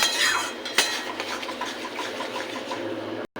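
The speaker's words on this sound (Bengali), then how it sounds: "কচুর শাকটা এইভাবে ঘুরিয়ে ঘুরিয়ে নাড়লে পুরোটা ভালোভাবে নাড়া যায়, মিক্সও হয়ে যায় তাড়াতাড়ি" Taro leaves cooked with a hilsa fish head are stirred in a pan, giving close scraping and rustling with soft clinks of the utensil against the metal. A sharp knock comes early, and there is no talk.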